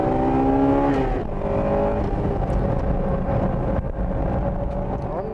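A Honda Integra Type R racing car's engine strains loud and close through a corner, its revving pitch dropping as speed is reduced, then climbing steadily again under continuous wind and road roar.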